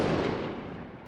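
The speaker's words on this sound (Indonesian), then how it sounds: "sebuah peluru menembus jantungnya" A single gunshot sound effect in a dramatized narrated action story, a loud broad blast that decays over about a second, heard alone without speech.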